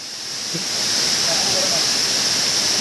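A waterfall in the Sahyadri mountains gives a steady, full rushing roar that swells over the first second and then holds constant and loud, with no talk above it.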